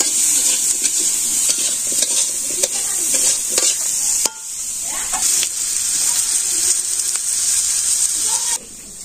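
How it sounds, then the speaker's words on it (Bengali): Fish curry spices with salt, chili powder, turmeric and green chili being sautéed in a pan, giving a steady close sizzle with intermittent stirring scrapes. "ভালো করে কষিয়ে নিব।"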